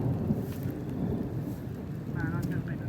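Heavy storm wind and rain roar steadily on a farm, a dense, continuous rumbling wash close to the microphone with gusty buffeting and no distinct breaks.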